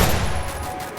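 Rapid burst of gunfire in the Free Fire battle-royale game, a dense, steady volley of close, loud shots running for about a second with no talk over it.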